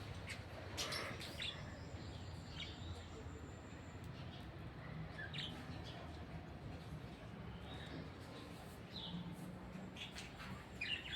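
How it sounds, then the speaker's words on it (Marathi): Pet birds chirp and tweet in short, bright bursts scattered through the stretch, fairly faint against a low background hum, with a person talking quietly nearby. "हे आमचे पक्षी आहेत."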